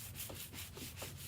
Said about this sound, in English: going to take my soft sanding block